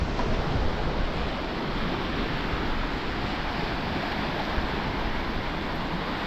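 Sea waves washing in at Pegwell Bay, Kent, a steady broadband wash of surf coming up over a ramp, heard alone and constant, with some wind noise.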